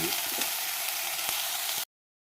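Continuous close sizzle of ridge gourd frying in a little oil, a bright steady hiss with a few faint taps, cutting off abruptly into silence.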